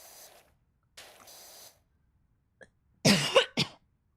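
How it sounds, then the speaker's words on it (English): Faint breathy noises, then a loud, close double cough in quick succession. "my cough is getting worse"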